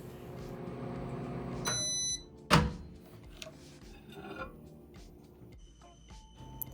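A microwave oven heats ghee, its steady hum running under a sharp door clunk, a few clicks and short electronic beeps close by.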